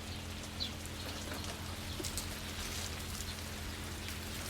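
Steady rain patters down on a vegetable garden of string beans, a constant soft hiss dotted with distinct drops, with no voices.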